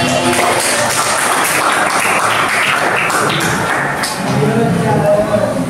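A classroom of students claps for a classmate named Fatih during a lesson, a lively, uneven patter of hand claps with taps and thuds, loud and close, with chatter and voices mixed underneath.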